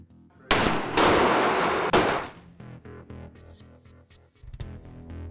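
A small rocket motor loaded with 1.5 grams of propellant fires in a loud, roaring burst of about a second and a half with a sharp crack partway through, then dies away to quieter rumbling and clatter.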